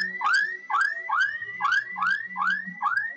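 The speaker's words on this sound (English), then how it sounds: "this one's alarm is working, so you're not gonna hear me well" The alarm of an old Soviet Volga car wails loudly and close, repeating a rising siren-like sweep about seven times in quick, even succession.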